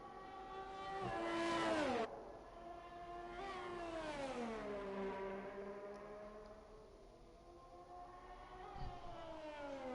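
A Haas Formula 1 car in F1 2020 laps the Netherlands track, its engine screaming up through the gears, dropping sharply on a downshift and then rising and falling through corners, loud and continuous with no voices.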